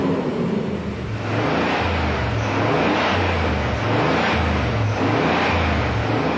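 A Pontiac Trans Am engine revs in repeated rising and falling surges, loud and close, with a steady rumbling undertone.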